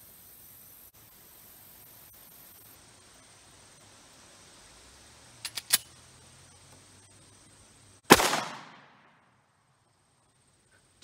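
Single 9mm pistol shots from a Taurus GX4 firing Federal 115 gr hollow points over a chronograph outdoors: two close sharp cracks, then one loud report with a decaying tail, separated by long quiet gaps over faint background hiss.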